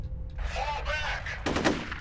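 Gunfire from the video game F.E.A.R.: close bursts of shots crack and rattle, with a sharp loud report near the end and no talking.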